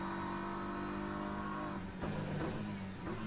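Race car engines drone in a sim racing game at Bahrain, a faint, steady whine with brief gear-change dips and a couple of short bursts partway through.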